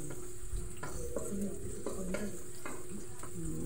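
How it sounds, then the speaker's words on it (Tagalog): Onions sizzling as they are sautéed in a hot pan for a home dinner, with a steady frying hiss and repeated scrapes of a stirring spoon, close and continuous without talk. "Gisa-gisa ng sibuyas."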